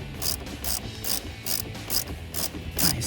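Rapid ratchet wrench clicks tightening a clamp on an aftermarket cold air intake pipe for a 2017-2020 Ford F150 3.5L EcoBoost, heard as six or seven evenly spaced bursts of sharp, close metallic ticking.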